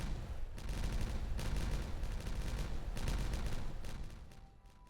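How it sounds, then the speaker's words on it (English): Rapid booming blasts fired in dense, overlapping bursts during a nighttime explosion sequence in the city-building game Timberborn, loud and continuous with clustered bangs before tapering off. "I think it might be time for a night time explosion."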